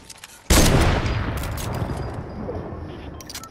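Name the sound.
gunfire shooting trees in Fortnite video game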